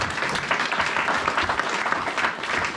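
A church congregation applauding, a dense wash of many hands clapping at a steady, even level with no single claps standing out.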